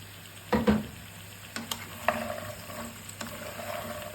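Garlic sizzles in a pan with peanuts for adobong mani, a low steady frying hiss broken by a few scraping stirs and clatters of the spatula, no talk.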